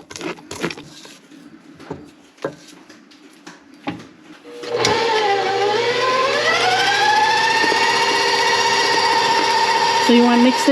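Tiramisu cream is beaten in a bowl, first with scattered knocks and light clatter, then a loud, close electric mixer whine that dips and rises before holding steady to the end.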